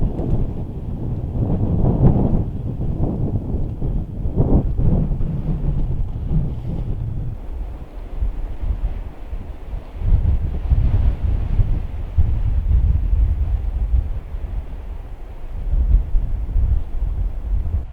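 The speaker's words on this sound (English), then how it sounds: "the wind is really ripping up here" Strong wind on a mountain summit at a fire tower after a snowstorm, a loud, steady roar buffeting the microphone with low rumbling gusts throughout and no talking.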